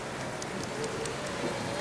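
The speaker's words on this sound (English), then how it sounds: "Well, it really is welcome to the rain now." Steady rain falls during a road cycling stage of the 2008 Tour de France, a constant wet hiss with faint spray throughout, loud and close, with no clear talk.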